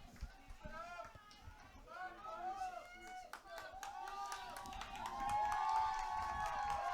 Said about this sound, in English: this Colts crowd really trying to rally, get behind their girls